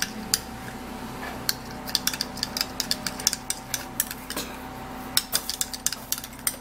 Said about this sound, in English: then I would have to give it a little mix